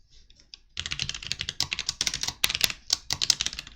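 Rapid clicky keystrokes on a computer keyboard, dense and uneven, after a brief quiet start, recorded close and with no voices.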